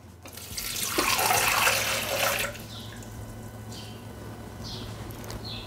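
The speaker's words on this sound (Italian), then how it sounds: "Iniziamo la ricetta mettendo all'interno del boccale l'acqua." Water poured into a Thermomix TM6 mixing bowl as the first step of a recipe: a steady, loud splashing gush runs for about two seconds and then fades into a quieter trickle, with no voices.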